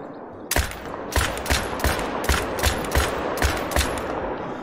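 A rifle fires repeatedly in the hunting video game theHunter: Call of the Wild, giving about eight loud, evenly spaced booming shots with a steady roar between them and no talking.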